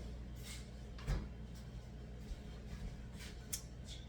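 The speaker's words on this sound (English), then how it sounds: "First thing I'm going to do is close my refrigerator door." A single soft thump of a refrigerator door closing, quiet and nearby, followed by faint small clicks and shuffling.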